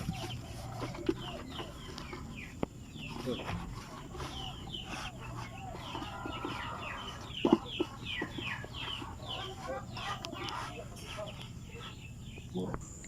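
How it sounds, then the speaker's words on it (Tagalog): Native chickens cluck and chatter steadily throughout at feeding time, with scattered short calls over a constant outdoor background hum. "pakain natin yung ating mga alaga guys"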